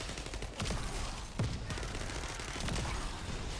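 Grenades and gunfire in The First Descendant video game, a dense, continuous wash of overlapping explosions and rapid shots, loud throughout with a sharper blast near the middle.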